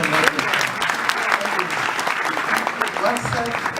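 An audience gives a round of applause at the launch of an international scholarship program, loud close clapping from many hands with voices talking and calling out over it.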